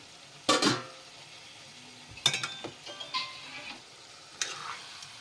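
Chicken tikka frying in a pan is stirred in a few separate bursts of scraping and clinking, with a low sizzle underneath, close and fairly quiet.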